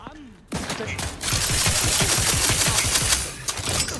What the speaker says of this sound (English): Niles, he's shooting us.